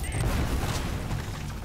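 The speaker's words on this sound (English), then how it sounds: "I hear gunshots, I just can't really tell." Gunfire in the video game Uncharted: Drake's Fortune, a rapid burst of muffled shots and booms under dense background noise.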